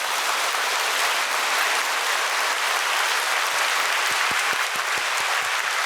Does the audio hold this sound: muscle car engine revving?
no